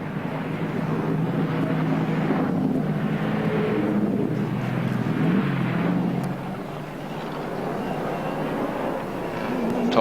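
Holden Commodore touring cars at the 1980 Hardie-Ferodo Bathurst 1000 roar past in a steady, loud engine drone that swells and fades as cars go by, with wind noise over the microphone.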